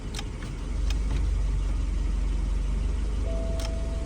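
A BMW 1 Series engine runs roughly at a low, uneven idle, a close, steady rumble with a faint whine coming in toward the end.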